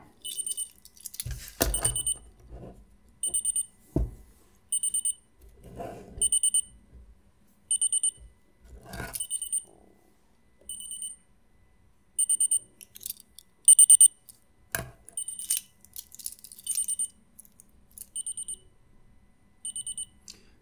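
Junghans Mega1000 radio-controlled LCD wrist watch from 2006 sounding its alarm: a series of short, high electronic beep bursts repeating in a steady pattern, with occasional handling clicks and knocks between them.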